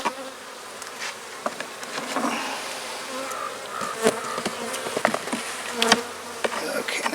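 Honeybees buzz densely around an opened, overcrowded hive, a continuous swarming drone with passing individual bees and scattered clicks and knocks from handling the frames.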